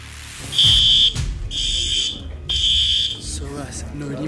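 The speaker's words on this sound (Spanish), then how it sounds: "está sonando la alarma de urgencias" Fire alarm in a cinema blaring in repeated loud electronic bursts, each about half a second long, with people talking over it.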